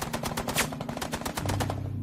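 Rapid machine gun fire on a beach in battle, a dense, steady burst of loud shots in quick rhythm that continues for the whole stretch, with a low rumble building underneath toward the end.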